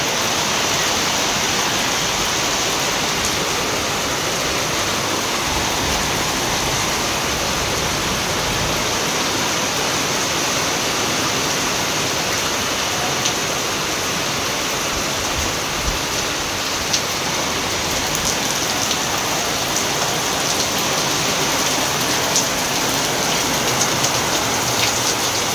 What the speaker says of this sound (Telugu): ఇదిగో స్టార్ట్ అయిపోయింది వర్షం. వినపడుతుంది సౌండ్, బాగా పడుతుంది పెద్దగా.